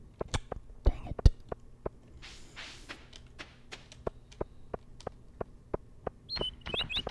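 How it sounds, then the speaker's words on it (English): Stardew Valley birdsong, a run of sharp evenly spaced ticks and chirps, light and fairly quiet, with a brief higher chirping phrase at the end. "Birds."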